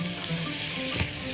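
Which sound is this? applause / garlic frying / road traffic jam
garlic frying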